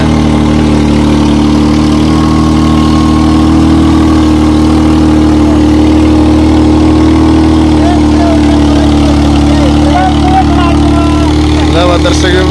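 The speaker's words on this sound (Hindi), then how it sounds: "ट्रैक्टर सही चल रहा है उसमें।" A loud 2001–2002 New Holland tractor engine runs steadily at idle, a continuous low rumble with a tonal drone, close and unchanging throughout.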